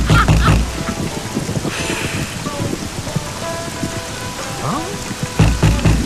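Heavy rain pours steadily in a Hindi film scene, a dense hiss of falling water with rumbling low bursts at the start and end, and voices and music faintly underneath.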